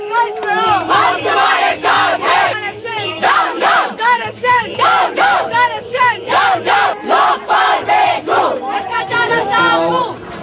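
A huge protest crowd in India rallying against corruption, loud chanted shouts rising and falling in a steady repeated rhythm, many voices together close and continuous.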